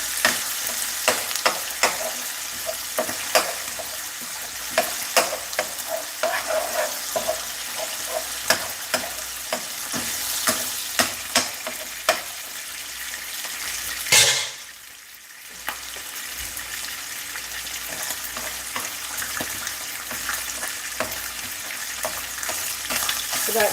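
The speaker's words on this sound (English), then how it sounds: "So I let the codfish fry it out a little." Codfish frying in a pan, a loud dense sizzle with crackling spatters throughout, briefly dipping quieter midway before the steady frying resumes.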